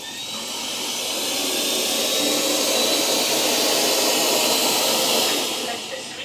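A Lydsto W2 Edge robot vacuum runs indoors with a steady close whirring hiss that swells gradually, holds level and tapers slightly at the end.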